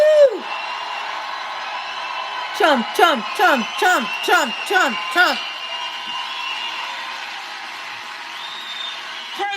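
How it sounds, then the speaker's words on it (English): A political rally crowd for President Trump in Wisconsin applauds and cheers, then breaks into a rhythmic chant of his name, loud and close, with several repeated shouted beats. "Let's give him a round of applause."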